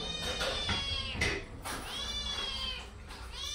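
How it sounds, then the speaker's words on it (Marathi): A pet cat eating bhakri gives repeated drawn-out meows close by, with rising and falling cries and faint clatter in the background. "आमचा मांजर भाकर खातोय."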